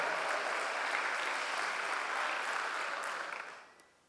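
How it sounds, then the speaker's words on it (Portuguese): A church congregation at a communion service gives sustained, dense applause mixed with a roar of voices for about three and a half seconds, then it fades away quickly. "aplauda o Senhor, dê um brado de vitória"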